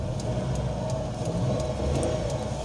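A petrol vehicle running on reserve fuel is revved, giving a fairly faint, continuous engine rumble with slight surging in the low end and no voices.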